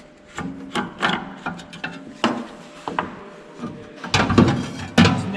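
Metal parts of a KUHN AXIS fertilizer spreader are handled while a spreading disc is unscrewed, giving irregular close knocks, scrapes and rubbing clunks in scattered bursts.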